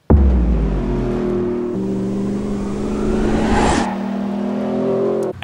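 A Ford F-150 Raptor with a 3.5-liter twin-turbocharged EcoBoost V6 revs loudly and close, the engine note holding steady, stepping up in pitch, then dropping back before idling on, with no talking.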